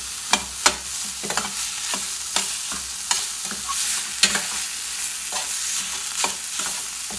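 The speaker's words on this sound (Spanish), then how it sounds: "Ahora vamos a integrar la cebolla con el chorizo." Onion and chorizo frying together in a pan, stirred with a spatula: a continuous soft sizzle broken by sharp scraping taps every half second or so, close and without speech.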